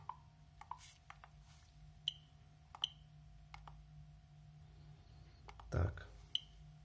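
Clicks of a RADEX OBSIDIAN dosimeter measuring normal background radiation, sharp isolated ticks at irregular intervals over quiet room noise, with a brief low thump near the end.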